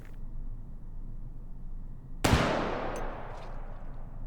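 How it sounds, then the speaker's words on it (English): A single loud gunshot from a Sharps 1874 rifle rings out midway, a sharp blast followed by a long decaying echo, after quiet background. "Let's close it, pull it back, and let's fire it."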